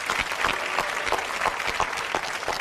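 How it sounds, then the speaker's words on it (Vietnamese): A studio audience at a televised dating show applauds to welcome the guests, a dense, even patter of clapping held steady throughout with no talking. "Một tràng pháo tay nữa chào đón tất cả quý vị"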